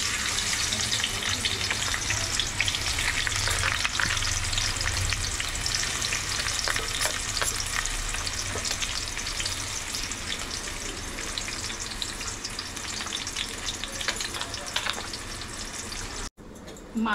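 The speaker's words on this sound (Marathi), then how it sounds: "आता आपण कांदे टाकूया तेलामध्ये." Onions frying in hot oil in a pan while cooking a Koli-style squid curry: a continuous dense sizzle and crackle holding steady for the whole stretch, with no talk over it.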